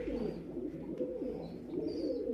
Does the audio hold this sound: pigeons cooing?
yes